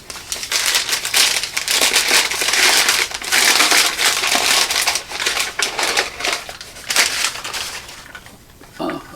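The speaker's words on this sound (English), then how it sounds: "It is tied in a knot, so here, I'm just gonna cut the string." A knotted string is cut on a box, giving close, crackly snipping and crinkling bursts in quick irregular clusters, loud and alone, tapering off near the end.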